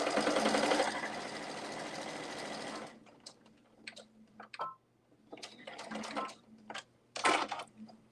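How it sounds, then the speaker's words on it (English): A sewing machine back stitching a test backpack, heard up close as a loud, steady whir for about three seconds that then stops, followed by scattered handling clicks and rustles. "I'm going to back stitch at the start and stop."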